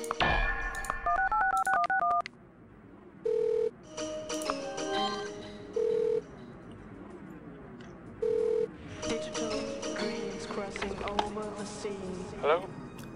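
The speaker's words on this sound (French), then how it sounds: "On va aller passer un petit coup de fil à Benjamin Hare" Touch-tone telephone dialing in the hacking game Uplink: bursts of rapid electronic DTMF beeps followed by several steady single tones, with game sound effects in between.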